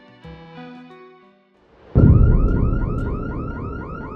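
A car alarm blares loudly after a short electronic tone sequence, cycling through rapid warbling whoops that repeat steadily.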